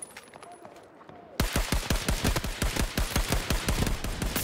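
Rapid automatic gunfire in Battlefield 2042 bursts in loudly after a quiet second, a fast, even string of close shots continuing to the end.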